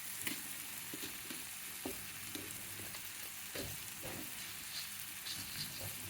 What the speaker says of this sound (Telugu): టమాటా ముక్కలన్నీ బాగా వేగుతాయి అన్నమాట